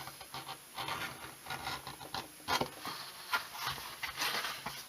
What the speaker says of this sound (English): Got my edge beveler, so I'm just going to go